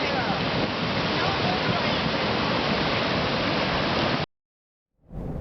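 Muddy flash flood water rushes loudly and steadily with debris at a creek campsite, a dense close roar that cuts off abruptly near the end before resuming.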